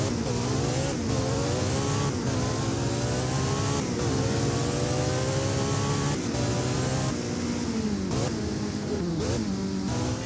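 Porsche 918 Spider in the Driving Empire video game, its engine revving loud and close as it climbs and drops through repeated gear shifts, with short pauses between pulls and no one talking.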